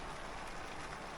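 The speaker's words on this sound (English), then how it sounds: "It started raining." Steady rain falling around a camper van parked on the coast of Mie, Japan, a dense even hiss with no separate drops standing out, continuous and fairly quiet.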